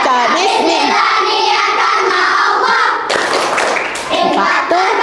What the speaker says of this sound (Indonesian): kelompok Dolpino akan mempraktekkan dulu yel-yel tepuk infak